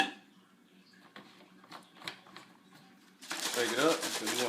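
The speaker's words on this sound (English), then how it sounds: "Shake it up because you want to get all of it." A ketchup bottle with a little water in it is shaken to loosen the last of the sauce, a burst of rapid rattling sloshing that starts late and continues loud and close after a few quiet clicks.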